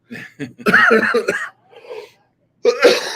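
Several harsh coughs in short, close bursts, with pauses between them and some breathy throat sounds.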